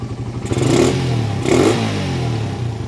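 Motorcycle engine fitted with a 28mm Keihin carburetor, running close by with a steady low rumble and two brief swells in engine noise, alone without speech.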